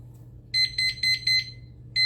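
A kitchen timer being set while making a chocolate chip tiramisu cheesecake, giving a quick run of five sharp, high electronic beeps followed by one more after a pause, clear and close, with no talking.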